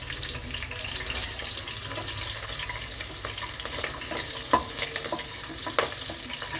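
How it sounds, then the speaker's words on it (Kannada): Oil hisses steadily in a pan while onions fry, with a spoon scraping and stirring. A couple of sharper pops of spattering oil stand out near the end, and no one is talking. "ಸ್ವಲ್ಪ ಸಿಡಿಯುತ್ತೆ, ದೂರ ಆಯಿತು."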